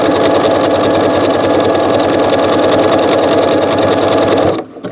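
Sewing machine stitching Gutermann thread: a steady, loud, fast mechanical whir and chatter running continuously up close, then stopping abruptly at the end.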